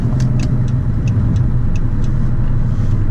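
A car drives along a road with a steady low engine rumble and road noise, loud and continuous throughout with no voices.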